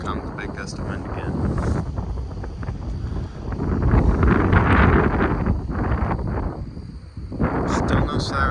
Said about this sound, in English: Here comes a big gust of wind again.